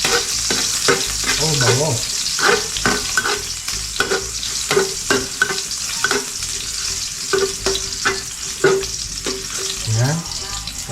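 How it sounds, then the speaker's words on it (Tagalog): Garlic sizzles and crackles as it fries in a pan, stirred with repeated scraping strokes of a utensil, broadband and steady throughout, with brief spoken words over it. "Okay, lagay tayo ng bawang."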